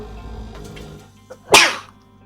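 A single loud sneeze bursts out in a quiet indoor room, sharp and close, standing alone against faint background noise.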